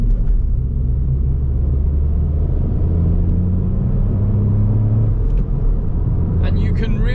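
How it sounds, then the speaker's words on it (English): A 2020 Ford Fiesta ST-Line with mild hybrid electric boost accelerating, a steady low engine rumble rising slightly in pitch, heard from inside the car, with no voices. "When you put your foot down, the electric motor just kind of gives you a little bit of extra torque instantly"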